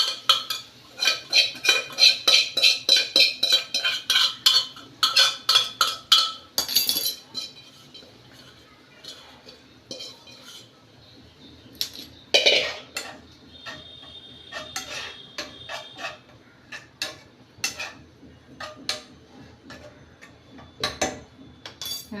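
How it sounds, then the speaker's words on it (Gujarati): A spoon stirring turmeric, red chilli and coriander-cumin powder in a pot for a homemade diet dish, rapid rhythmic metal clinks and scrapes in bursts with quieter gaps, close and fairly crisp. "ચમચીથી બધું જ મિક્સર"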